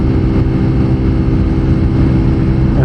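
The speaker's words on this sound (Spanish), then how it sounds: "Escuchen el motor." A TVS Apache 200 Fi ABS motorcycle engine pulling uphill, a loud, close, continuous low-pitched drone with a rough throbbing texture and no talk over it.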